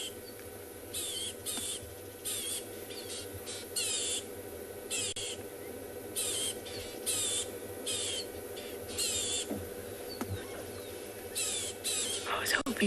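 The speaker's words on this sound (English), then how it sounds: "You can still hear the owlet squawking in the background." A pearl-spotted owlet squawks on safari, repeated harsh bursts at a steady pace in the background while a person talks over a constant outdoor hiss.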